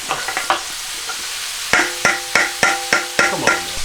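Vegetables sizzle in a hot pan while a utensil stirs and scrapes them in a steady series of sharp, rhythmic strokes, with a constant frying hiss underneath.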